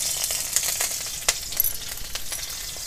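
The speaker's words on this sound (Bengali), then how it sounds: "এবার আমি ওই কড়াইয়ে দিয়ে দিচ্ছি কাঁচা লঙ্কা কুচি" Chopped green chillies hit hot oil in a wok and set off a continuous close sizzle, with a few sharp clicks from a spatula rising above the steady hiss; no voices.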